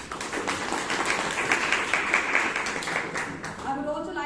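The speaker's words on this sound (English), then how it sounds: "Let's give our Toastmaster Day a huge round of applause." A Toastmasters club audience gives a round of applause, dense clapping filling the room for a few seconds before a voice begins speaking near the end.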